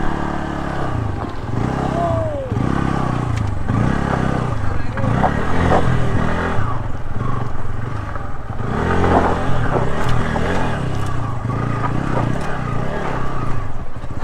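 Bajaj Pulsar N160 motorcycle climbing a steep off-road hill in the Aravali Hills, its engine revving and labouring in surges with clattering from the rough ground, close and loud, with a voice briefly heard near the start.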